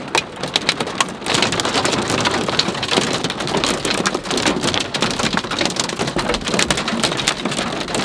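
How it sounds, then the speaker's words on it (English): Heavy rain and hail pound a surface during a lightning storm at a mountaintop campsite, a dense, loud, continuous patter with sharper hits from hailstones. "Some pretty decent sized hail."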